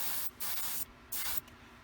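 Two short bursts of an aerosol spray can hiss while painting a Tamiya 2½-ton 6x6 plastic model cargo truck, each a close, steady hiss of about half a second with a brief pause between them.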